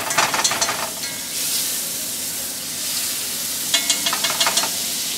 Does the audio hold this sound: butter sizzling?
yes